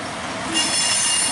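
Metal train wheels squeal steadily along the rails as cars are pushed past by the engines, a continuous high-pitched screech that swells slightly midway and holds loud to the end.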